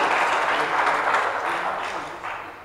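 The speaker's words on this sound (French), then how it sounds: "Mesdames et messieurs, applaudissez encore les deux équipes du jour, collège Catherine Flon et lycée Alexandre Pétion." An audience at a televised school quiz match applauds the two teams, a loud dense burst of clapping that gradually tapers off over a few seconds.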